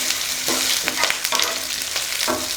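A spoon stirs and sautés peanut chutney ingredients in a hot pan, steady oily sizzling broken by several scraping, clattering stir strokes, close and loud with no talking.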